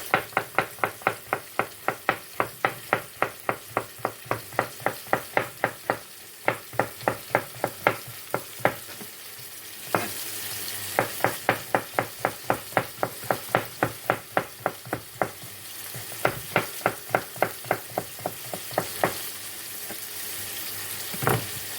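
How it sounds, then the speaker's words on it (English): Carrots stir-frying in a pan for a Polish vegetable stir fry, a steady sizzle under dozens of rapid, rhythmic scraping strokes of a utensil against the pan, close and clear with brief pauses, no voices. "continuing the frying as you cut it, so to get some sort of softness to the carrot"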